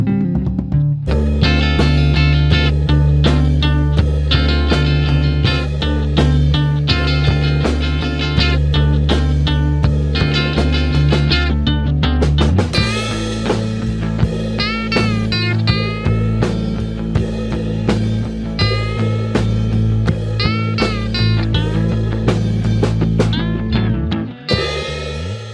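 A full band plays a song with guitar, bass, drums and piano, loud and continuous throughout, with a brief shift in texture midway and a sudden drop near the end.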